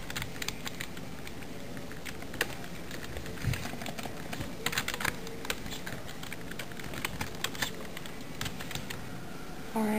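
Keys clatter in quick irregular bursts as someone types freely on a computer keyboard, close and moderately loud with steady faint background hiss.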